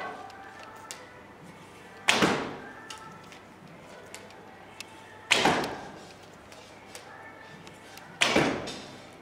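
Arrows shot quickly from a short Turkish bow, three sharp string snaps with thudding releases spaced about three seconds apart, loud and close over a quiet outdoor background.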